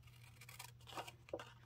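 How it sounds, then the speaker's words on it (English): Small cutter bee scissors cutting a paper bunny image out for a craft tag: a few soft, close snips and paper rustles over a low steady hum, faint and irregular. "I think I'm just going to be using my little small cutter bee scissors here"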